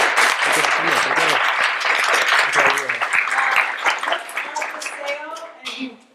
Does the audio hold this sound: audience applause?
yes